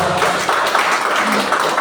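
Church congregation applauding during a service, a dense, steady wash of many hands clapping at close range with a few voices mixed in.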